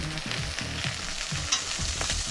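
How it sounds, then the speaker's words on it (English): Vegetables sizzle loudly in a hot pan while being stirred, a dense close crackle with soft scraping, briefly heard alone. "I'm going to stir these veggies."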